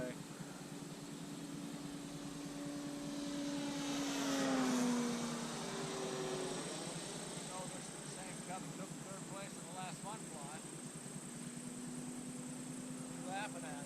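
FMS A6M Zero radio-controlled model airplane making a low pass over a runway, its electric motor whine rising as it nears, peaking mid-pass and fading away, with people talking over steady background noise.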